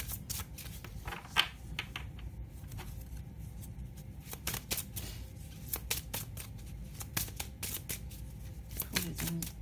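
Large tarot cards are shuffled by hand up close, giving a steady run of crisp, papery riffling and snapping bursts that repeat irregularly throughout.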